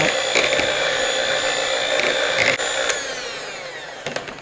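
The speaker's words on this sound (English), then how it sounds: "I'll just use this little hand mixer." An electric hand mixer whirs steadily through baked sweet potatoes for a Southern sweet potato pie, a continuous close motor drone that eases slightly near the end, with no talk.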